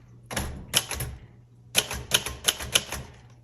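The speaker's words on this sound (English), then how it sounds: "Okay, let's go ahead and type." Typing on a 1964 Royal Safari manual typewriter, two close clusters of crisp, clacking keystrokes separated by a short pause, heard up close with no talking.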